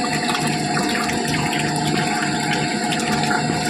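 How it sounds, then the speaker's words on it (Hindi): Water rushing steadily from a pipe fed by an electric pump motor, giving a loud, constant splashing gush with an unbroken hiss throughout and no talking. "देखो पानी सही आ रहा है"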